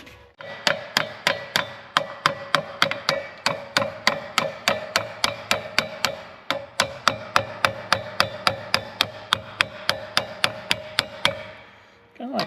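Small hammer tapping steadily on a part of an ex-government IH Dresser TD20E bulldozer, about thirty sharp metallic strikes in an even, brisk rhythm, close and loud, with no talk over them.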